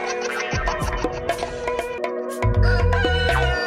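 A person imitates a chicken crowing as a punishment in a comic classroom skit, a loud voice-made cock-a-doodle-doo with rising and falling strained calls lasting several seconds, ending in a heavier burst.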